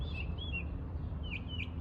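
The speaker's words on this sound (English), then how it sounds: "That bird that's singing right now." A songbird sings in a spring garden, a few clear, thin whistled phrases spaced apart over a low outdoor rumble.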